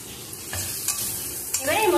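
A spice paste with ginger paste and tomatoes is stirred in a hot pan for an Indian potato and pointed gourd curry. A steady sizzle runs under a few scraping strokes, and the frying swells louder at the end.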